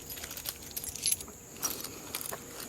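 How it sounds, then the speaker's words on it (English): A pocketful of keys jangles near a car, delivering light metallic clinks in scattered bursts that stay soft and close. "Let me find the key. I got a million keys in my pocket."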